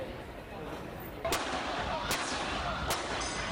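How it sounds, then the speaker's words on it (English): Gunfire in news footage of a terror attack in the coastal town of Cambrils: three sharp, fairly distant shots at roughly even intervals over a constant background hiss. "Shots ring out in the coastal town of Cambrils."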